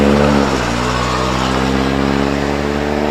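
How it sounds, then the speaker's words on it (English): A vintage Vauxhall Wolseley racing car pulls away from the start line at a hill climb, its engine a loud, close, steady drone that hardly changes pitch as it accelerates. "off the line goes Stephen Fathers in the Vauxhall Wolseley"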